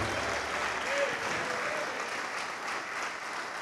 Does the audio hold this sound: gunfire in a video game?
no